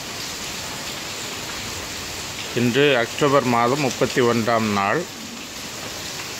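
Heavy rain falls steadily at a theological college campus in Trichy, a broadband hiss that holds throughout while someone speaks over it partway through.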